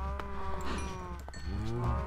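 Cows moo in a Minecraft-style game, several short, clear lowing calls close together, one after another over a low steady background.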